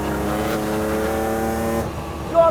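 The 650bhp V12 in a TWR Supercat Jaguar XJS revs loud and close, a harmonic engine note holding steady before cutting off abruptly, then a brief blip near the end.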